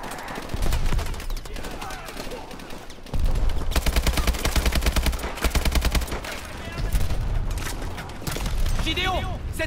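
Heavy automatic gunfire in Call of Duty: Advanced Warfare, long sustained bursts with shorter volleys around them, loud and near, mixed with game effects and other battle noise.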